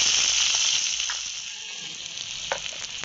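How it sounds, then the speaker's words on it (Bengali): Dried red chillies and a bay leaf crackle in hot oil in a wok, a steady close sizzle with a few brief pops and stirs, no voices. "আবার সেই একই কড়ার মধ্যে দিয়ে দিচ্ছি ফোড়নে দুটো শুকনো লঙ্কা, তেজপাতা,"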